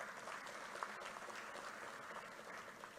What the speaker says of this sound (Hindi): कलिता जी के लिए ताली बजाओ जरा